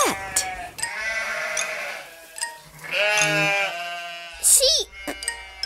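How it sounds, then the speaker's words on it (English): A sheep bleats in a children's animal-sounds compilation, with quavering, wavering calls over a background of music, clear and close. "Sheep."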